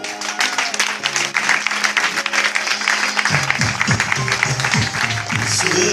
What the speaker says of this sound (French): Alors on va acclamer encore le Père.